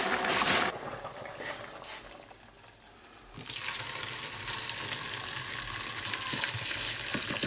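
Flour cooks in a pan with a soft sizzle and bubbling that dips quietly for a moment and then returns as a steadier, louder frying hiss.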